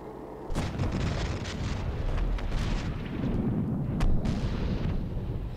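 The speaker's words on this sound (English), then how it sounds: "They're gonna blow it up with airstrike?" Airstrike explosions in the video game Medal of Honor: Warfighter, a dense, continuous roar of heavy blasts and rumbling booms with sharp cracks layered through, loud and sustained without pause.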